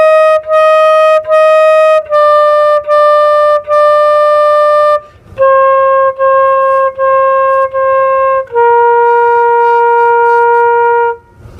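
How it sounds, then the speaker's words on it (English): Solo flute playing the opening of Jolly Old St. Nicholas, with repeated detached notes stepping downward, clear and close in a quiet room. "Jolly Old St. Nicholas starts out like this."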